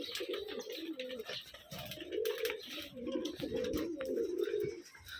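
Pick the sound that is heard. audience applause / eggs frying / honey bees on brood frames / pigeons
pigeons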